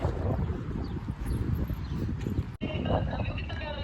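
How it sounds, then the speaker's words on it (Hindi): Strong cold wind at the Dammam Corniche seaside buffets the microphone with a loud continuous rushing roar, cutting out briefly before resuming just as strong. "बहुत ठंडी हवा चल रही है"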